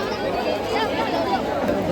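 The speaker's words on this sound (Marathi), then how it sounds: "आज तर सॅटर्डे आहे ना खूप प्रचंड प्रमाणात गर्दी आहे" Dense crowd chatter at a big Saturday jatra in Thane near Tembhi Naka, a continuous close babble of many overlapping voices filling the whole stretch.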